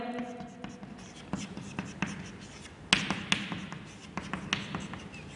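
Marker or chalk writes on a board during a chemistry lecture on hydrocarbons, a run of close, sharp taps and short scratchy strokes in irregular bursts, with a voice speaking faintly underneath.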